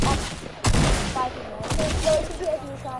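A drum gun firing in a video game, sharp bursts of rapid gunfire in two clusters separated by a short gap, loud and close, with talking and game sounds mixed in.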